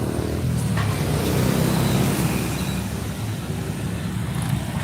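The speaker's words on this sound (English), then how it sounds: "A Harley just passed by right there." A Harley-Davidson motorcycle rumbles past on a busy street in Colombia, its engine droning steadily amid dense traffic noise and other passing vehicles.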